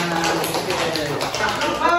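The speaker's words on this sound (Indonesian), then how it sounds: "Tepuk tangan." A small group clapping hands at a Quran recitation session, a brief run of light taps mixed with voices talking over it.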